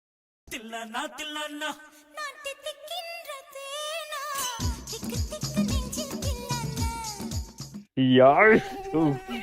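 Thin, high whining buzz of mosquitoes wavering in pitch, mixed with musical tones and a louder burst near the end.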